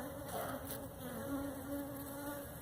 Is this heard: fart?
no